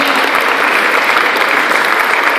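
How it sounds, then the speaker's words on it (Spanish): Steady, loud, dense applause fills a church Children's Day service, a continuous crowd of hands clapping with no voices on top. "Vamos a dar un aplauso a los discípulos."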